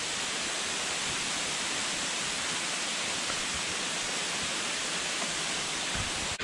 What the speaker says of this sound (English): There are these waterfalls.